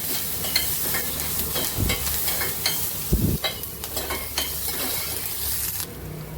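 Chopped onion, tomato and curry leaves sizzle in a hot pan while a spoon stirs and scrapes against the metal in irregular strokes, a soft frying hiss running steadily underneath with no talking.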